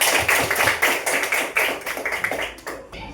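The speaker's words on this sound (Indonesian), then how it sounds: "Tepuk tangan untuk kelompok 3" A sixth-grade class at an elementary school claps for a group of classmates. Quick, fairly close hand claps come in a brisk, uneven patter and taper off near the end.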